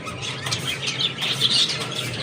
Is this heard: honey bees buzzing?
no